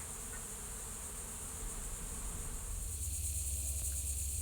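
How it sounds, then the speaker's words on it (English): A honeybee swarm clustered in a backyard tree gives a steady, dense buzzing drone that continues throughout, soft and somewhat distant, with no voices. "All my bees are up in the tree."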